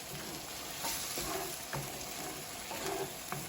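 Shakshouka sauce with bell peppers and onions cooks over high heat, giving a steady close sizzle and frying hiss with a few soft stirring scrapes and knocks, no talking.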